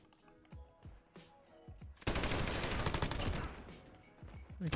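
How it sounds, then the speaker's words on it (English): A PKM heavy machine gun in Modern Warfare: a few separate shots at first, then a long, loud, continuous burst of rapid automatic fire that lasts to the end. "it's my fault for using a heavy machine gun."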